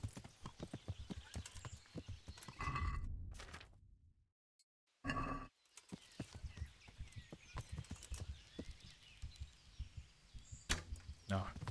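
Horse hooves clip-clopping at a gallop in the medieval game Kingdom Come: Deliverance, a rapid rhythmic beat near and clear, cut by a brief silent gap midway, with occasional sharp game sounds mixed in.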